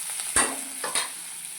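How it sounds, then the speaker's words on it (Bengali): Large-cut onion pieces frying in a pan for a neem and eggplant dish, giving a steady faint sizzle with two short clatters of the pieces being tipped in or stirred. "এবার আমি একটু বড় বড় করে কেটেছি পেঁয়াজগুলো, এরকম পেঁয়াজগুলো দিয়ে দেবো, দিয়ে আমি 1 মিনিট ভেজে নেব"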